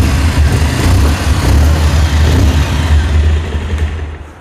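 Engine of a 2023 Bajaj Avenger 160 Street motorcycle idling up close, a loud mechanical clatter over a low thrumming pulse that fades slightly toward the end, with no talk.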